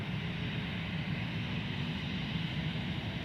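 An airplane taking off at Boeing Field, a steady heavy engine roar with deep low rumble heard up close from inside the airfield movement area, no talking.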